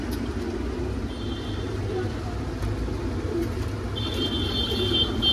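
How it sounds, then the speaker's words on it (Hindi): Pure Punjabi pigeons coo softly in a low, repeated murmur under steady background noise, with a faint high whine and occasional distant traffic. "प्योर पंजाबी कबूतर है दोस्तों"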